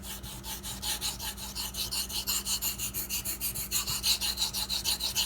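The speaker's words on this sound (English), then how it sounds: "you can hear the difference between that and that. That's hitting behind the edge. That's hitting the apex." Ganzo knife blade being resharpened to a convex edge on a stone, a rhythmic rasping scrape repeating about six times a second, close and fairly quiet, with no voices.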